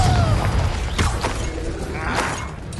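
Fiery spell blasts from Confringo in the Hogwarts Legacy video game, a few booming bursts with crackling debris over a dense rumbling battle bed, loud and close.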